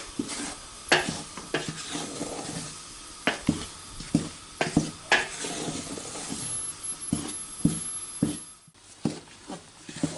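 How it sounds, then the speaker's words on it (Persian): Flour frying in a pan for Afghan halwa while it is stirred. Repeated scraping strokes land about once a second over a gentle sizzle, close and fairly soft. "آرد باید خوب سرخ شوه"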